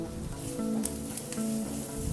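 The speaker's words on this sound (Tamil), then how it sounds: "ஒரு உருளைக்கிழங்கு பாயில் பண்ணி இப்போ நல்லா பொரிக்கணும்." Boiled potato frying with turmeric and spices in a pan, a steady close sizzle with faint stirring scrapes running throughout.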